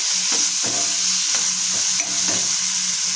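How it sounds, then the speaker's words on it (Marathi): Capsicum and peas are stir-fried in hot oil, with a constant loud sizzle close by, broken by several scraping stirs of the spoon through the pan. "इथे शिमला मिरची आणि मटर हे टाकून 2 मिनिटं तेलावरती परतून घ्यायचं"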